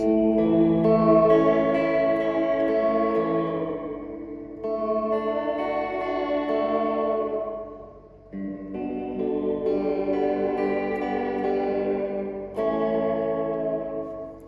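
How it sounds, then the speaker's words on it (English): Guitar played through a Fender Reflecting Pool pedal set to a digital reverb with full mix, sustained chords washing into a lush, echoing tail; loud and continuous with two brief dips, no talking. "And then digital reverb at whole, again fixed at digital."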